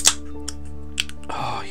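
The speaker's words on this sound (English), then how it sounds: "we'll start off by cracking open a can of Indian Pale Ale, handcrafted by a company called Green King" A can of Green King India Pale Ale cracks open with a sharp near snap, followed by a brief second click and then a soft fizzing hiss.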